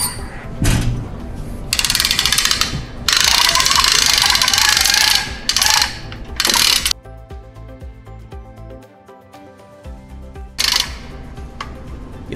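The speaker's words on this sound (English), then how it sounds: "And then next we're gonna crank up the mast." A hand crank raises the mast of a security camera trailer, giving off steady, close mechanical ratcheting and clicking with loud bursts, then quieter regular clanking toward the end.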